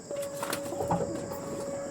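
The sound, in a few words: pigeons cooing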